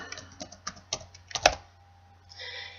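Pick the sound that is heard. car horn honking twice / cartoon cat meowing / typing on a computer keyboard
typing on a computer keyboard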